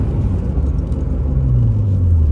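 Engine of a 1993 BMW E36 325i running just after starting, a steady low rumbling idle with a slight rise in pitch toward the end, close and alone.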